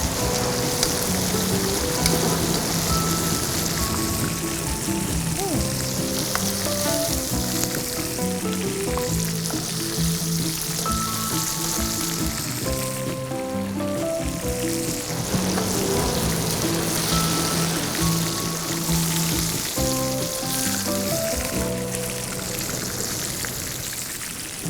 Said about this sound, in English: Cooking on a fast fire works when it's something that can cook fast for you, right? Like frying.